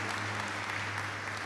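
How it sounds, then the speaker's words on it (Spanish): A church congregation applauds together during a service, steady dense clapping that fills the room evenly and stays faint. "Denle un fuerte aplauso al Señor."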